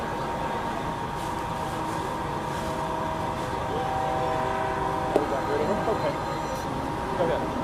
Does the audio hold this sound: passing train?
yes